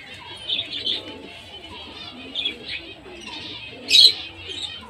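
Pigeons on a house rooftop in the afternoon make thin high chirps and squeaks in short scattered bursts, one sharper call standing out, over a low faint murmur of cooing.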